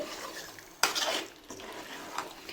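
Fish pieces turned in hot oil in a pan, a sharp utensil knock and scrape followed by bursts of sizzling and a few lighter scraping strokes, close and fairly quiet.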